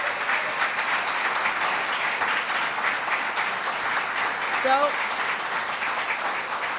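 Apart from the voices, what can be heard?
audience applause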